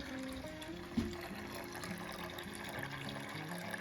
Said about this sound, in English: It's pretty exciting when you start seeing all of that liquid just gush out.